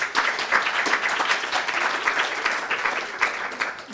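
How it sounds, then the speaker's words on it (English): Audience applause at a summit panel on episodic directing as a director is introduced, steady dense clapping from a room full of people, even and sustained for several seconds. "round of applause"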